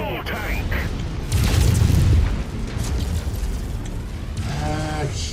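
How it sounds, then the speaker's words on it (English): A fuel tank blows up in MechWarrior 5, a deep rumbling boom swelling for about a second amid mechanical noise, with a voice speaking around it. "Just blew up fuel tank."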